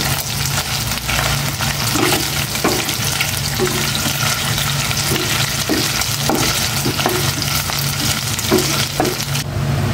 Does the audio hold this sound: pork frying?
yes